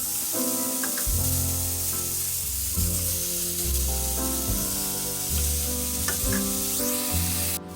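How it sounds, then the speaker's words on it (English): Onion and green pepper sauté in a pan as the base for baked spaghetti, a steady sizzle running under what sounds like background music with sustained tones, close and moderately loud throughout, with no talking. "you want to go ahead and add your onion and your green pepper, and we're going to saute them for 2 to 3 minutes"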